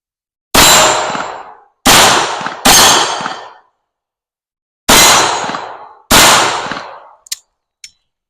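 Five sharp pistol shots from a Beretta 80X .380 with a threaded Allegheny Arms barrel, fired at an outdoor range in an uneven rhythm, each loud crack trailing off in a brief echo, followed by two faint metallic clinks.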